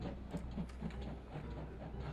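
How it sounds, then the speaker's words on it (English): A train in the horror game Five Nights at Smudgers 4 rumbles in low and steady, with soft rhythmic clacking and faint hiss, fairly quiet and heard alone over a brief moment. "Alright, here comes train."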